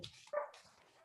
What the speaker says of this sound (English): Can you guys hear my dogs barking right now?